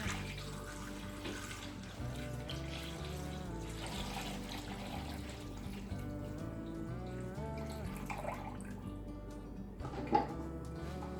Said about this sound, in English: I'm going to put some water in here real quick